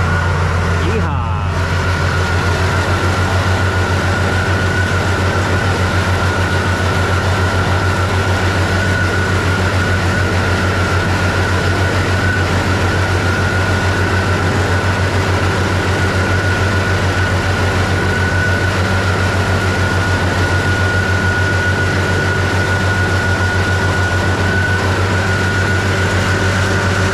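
Tractor driving with a Pottinger mower, a steady loud engine drone and low hum running unchanged throughout, with a brief clunk near the start.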